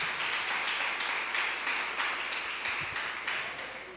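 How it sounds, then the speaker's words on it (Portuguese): Church congregation applauding in a steady, dense burst of clapping that holds throughout and fades slightly toward the end, with a few faint knocks underneath. "Se assente, aplaudindo a Jesus"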